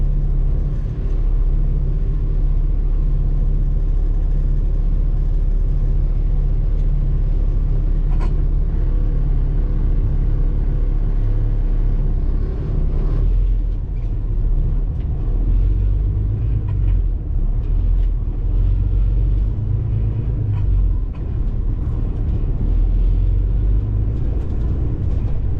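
A broken-down Peterbilt truck rumbles steadily in neutral during a desert recovery, a loud, continuous low engine drone that holds for the whole stretch with no talk over it.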